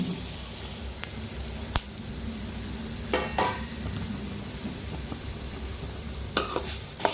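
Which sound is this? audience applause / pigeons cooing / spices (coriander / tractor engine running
spices (coriander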